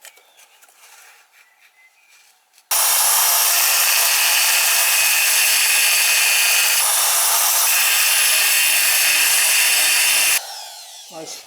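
A belt sander grinds thick, rusty metal on a Suzuki Jimny, starting abruptly after a few quiet knocks and running as a loud, harsh, continuous high-pitched grind for about eight seconds before cutting off.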